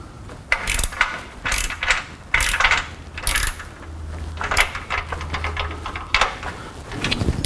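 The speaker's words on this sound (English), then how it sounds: "This is the wrong kind of ratchet." Ratchet clicking in short bursts while a front sway bar is installed on a MkVII Volkswagen GTI, repeated sharp metallic ticks with pauses between strokes, close and moderately loud.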